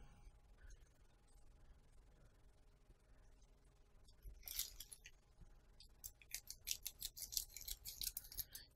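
Scissors snip through packaging during an eBay unboxing, a faint run of sharp cuts that grows louder and quicker toward the end, with no talking.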